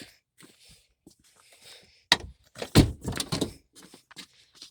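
The door of a 2000 Chevy Tahoe is unlatched and swung open, its door panel hanging loose at the bottom. Soft handling noises lead into a sharp click, then a couple of louder clunks and rattles, close up.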